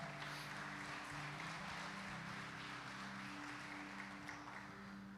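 Steady applause from a large church congregation during a family worship service, a dense wash of clapping that holds evenly throughout with faint tonal background underneath.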